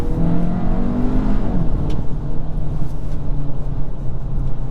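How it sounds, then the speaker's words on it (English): A 2022 Hyundai Elantra N Line with a DCT gearbox, heard from the cabin with the sunroof open: a loud, steady engine and exhaust drone with a few sharp crackles and pops breaking through. "It does make a little bit of crackles and pops."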